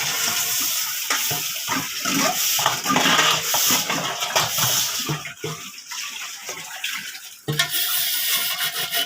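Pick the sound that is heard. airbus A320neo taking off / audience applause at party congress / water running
water running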